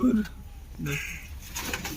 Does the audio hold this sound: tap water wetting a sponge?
no